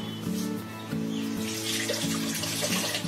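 Water poured from a pot into a large batch of village-style chicken masala, a steady continuous splashing and gurgling wash that runs close and fairly loud for the whole stretch with no talking.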